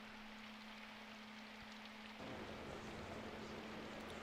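Steady rain falls in the visual novel game Symphonic Rain, a soft, even hiss of drops that grows slightly denser and louder partway through.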